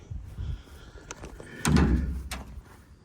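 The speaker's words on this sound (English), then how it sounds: "I'll just open the bottom door" The bottom half of a split pigeon loft door is opened, with latch clicks followed by a close, solid knock and scrape of the door swinging and bumping, then faint rattles.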